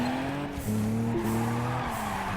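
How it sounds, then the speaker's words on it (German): Car drifting in the Juiced 2 racing game, a steady engine drone with a sustained tire squeal that shifts pitch as the slide continues, close and loud. "Wagen 6 driftet immer weiter."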